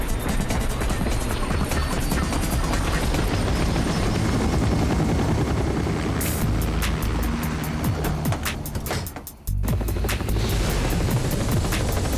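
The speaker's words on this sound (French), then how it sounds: "Montez dans l'hélicoptère." A cartoon helicopter from Totally Spies roars with a loud, steady rotor drone that drops away briefly near the end before resuming. No voices are heard.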